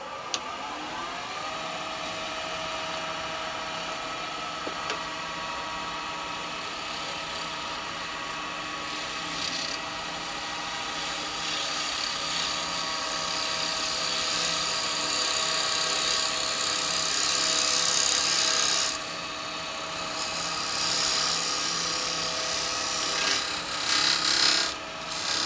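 A woodturning lathe spins as a tool cuts wood to make chucks for turning pendants, giving a continuous close scraping hiss over a steady motor hum that swells and dips as the cut changes.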